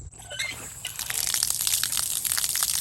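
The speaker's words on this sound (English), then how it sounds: "Water's coming out." Water gushes steadily from a repaired outdoor hose faucet fitted with a vacuum breaker, a close, continuous hissing splash that starts abruptly after a brief quiet moment and keeps a constant strength.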